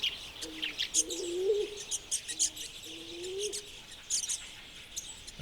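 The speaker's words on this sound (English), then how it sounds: "So too are Madagascar turtle doves." Madagascar turtle doves coo in soft low phrases that repeat a few times, with busy high chirping and twittering from other birds throughout.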